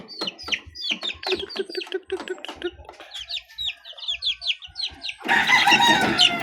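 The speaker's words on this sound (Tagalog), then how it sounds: "Mga matatakaw to mga kamanok." One-month-old yellow-legged chicks cheep and cluck in quick, busy overlapping calls close up, followed near the end by a burst of loud rustling noise.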